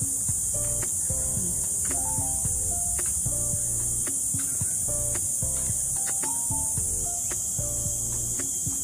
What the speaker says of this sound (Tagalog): Marinig ko pa rin ang kuliglig sa oras na ito.